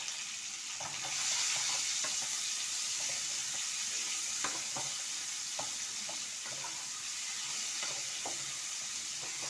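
Chopped onions for prawn pulao hit a hot pan, and the sizzle swells into a steady loud hiss, joined by irregular stirring scrapes and knocks, with no talking.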